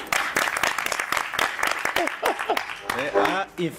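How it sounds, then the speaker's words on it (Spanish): Brief audience applause in a lecture hall during a talk on violence in film and other media, a wash of clapping from a crowd with voices and laughter breaking through over it. "Ha incitado el aplauso."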